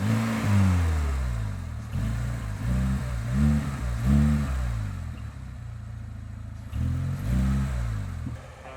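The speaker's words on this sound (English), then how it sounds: "The fuel injection engine works rather quietly, both at idle and when pushing throttle." Fuel-injected engine of an Irbis 320 buggy idles, then revs up and back down in several short bursts with a pause near the middle. The engine sound is steady and close by, with no talking.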